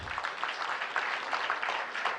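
Audience at a millets week finale event at an embassy in Kuwait claps for competition winners, a brief, moderately distant patter of applause with no talk.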